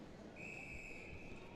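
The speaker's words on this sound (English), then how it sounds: "Whistle and a stoppage of play as Mertz makes a save" Referee's whistle at a youth U14 ice hockey game stopping play, one sustained shrill blast lasting about a second over steady arena crowd noise.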